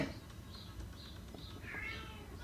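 A few faint cat meows rise over a quiet, rustling outdoor background, spaced out across a couple of seconds.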